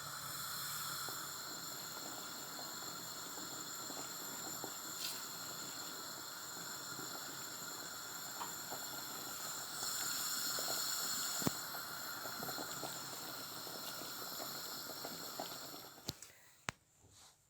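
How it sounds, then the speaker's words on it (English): Beetroot and coconut milk soup simmers in a pot, a faint, steady bubbling hiss that runs evenly throughout before a couple of small knocks at the end. "Now the soup has bubbled away for about another 5 minutes."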